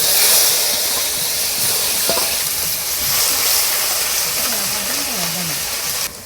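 Onion, mustard, cumin, radhuni, ginger and garlic pastes sizzle with whole cumin in hot mustard oil. A steady, close frying hiss runs throughout, with a faint tonal sound near the end.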